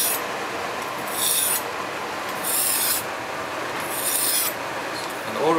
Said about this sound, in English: While you are grinding the kitchen knives, please do not grind like this